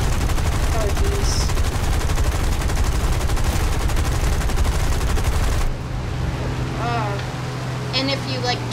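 Rapid, loud machine-gun bursts from aircraft in the War Thunder flight game rattle continuously under engine drone, then give way to quieter engine noise and game effects while a player talks.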